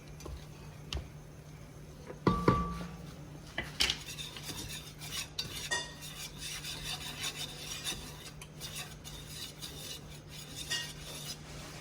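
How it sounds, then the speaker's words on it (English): A whisk scrapes and clinks against a pot as flour is whisked into creamed spinach sauce, giving a steady rubbing, ticking metal rhythm with a few louder knocks, close and without talk. "So I'm going to whisk in about a cup of flour here."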